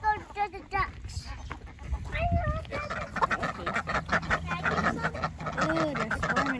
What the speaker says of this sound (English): Let's go to the ducks.